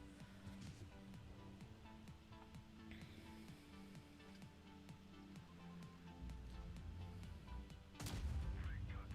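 A tank gun fires in World of Tanks Blitz: a low, steady engine rumble and faint clanks give way to one loud, sudden blast near the end.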